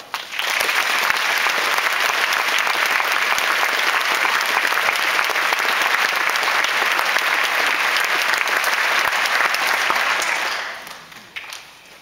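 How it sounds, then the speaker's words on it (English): Sustained applause from the audience at a 2012 University of Washington dental school graduation ceremony, a dense, even wash of clapping hands lasting about ten seconds before tapering off near the end. "Let's take a moment to give a round of applause to all the people that made today possible."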